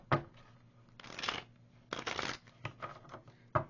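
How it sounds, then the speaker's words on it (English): Tarot cards get shuffled in several quick riffling bursts, close and crisp, separated by short pauses and light handling taps. "Hold on, let me get some good shuffles."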